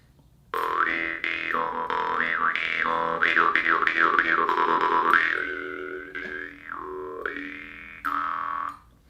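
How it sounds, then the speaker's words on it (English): A Zagy Blackfire bass jaw harp in low E with a square flat-black frame and tight reed, played up close: a loud twanging drone with rapid wah-like vowel sweeps, then slower bending tones, a pause and a final short twang. "this is a Zagy Blackfire in low E. This is a bass harp."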